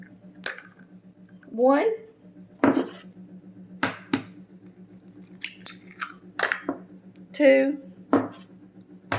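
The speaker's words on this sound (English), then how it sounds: "Now we're going to go ahead and put in our eggs." Eggs cracked against a hard edge into a mixing bowl for a from-scratch German chocolate cake, giving a few sharp clicks and taps spread across the stretch, close up, with brief speech counting between them.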